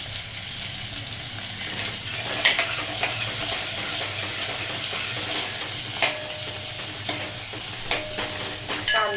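Two small chopped onions fry in oil in a pan for a spicy moong dal amti, a continuous sizzle with scraping stirs and occasional utensil clinks, steady and close with no talking.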